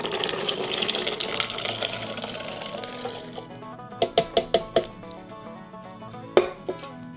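Cooked beans are poured into a blender, first as a steady watery rush and then as a few sharp wet plops and knocks, close and alone.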